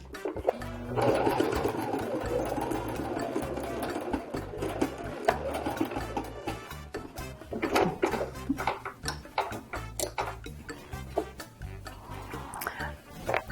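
Sewing machine running a zigzag stitch along a fabric edge to finish the seam, a steady busy mechanical whirr throughout with small clatters and knocks near the end.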